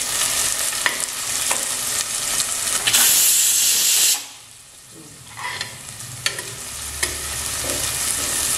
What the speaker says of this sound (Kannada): ಸೊ ಈರುಳ್ಳಿ ಫ್ರೈ ಆಗ್ತಾ ಇದ್ದಂಗೆ